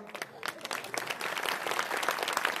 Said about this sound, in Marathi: झेंडा मधून टाळ्या वाजव तिच्यासाठी, वाजव जोरात